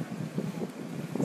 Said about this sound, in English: These wind gusts have really picked up.